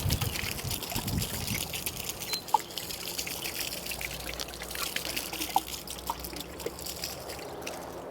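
Water trickles and pours steadily onto dry, sandy garden soil in a bed being sown with phacelia, a soft continuous splashing with a few faint drips, fairly quiet and close.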